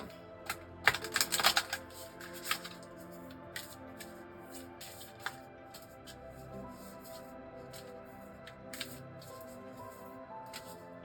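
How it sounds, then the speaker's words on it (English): Tarot cards riffle and slap together in a short burst near the start, followed by quieter intermittent shuffling and taps with no talking. "I'm going to shuffle this deck again"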